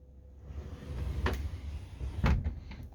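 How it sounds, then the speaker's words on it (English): A door rolls shut along overhead tracks in a room, giving two distinct rumbling slides, the second louder and closer, over a low background hum. "The point of having all these tracks up here is so the door will close."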